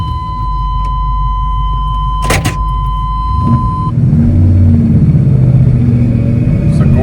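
A 1986 Chevy C30 pickup truck's engine idles with a low rumble, then picks up and pulls away, growling louder as it drives, with a couple of sharp clicks early on.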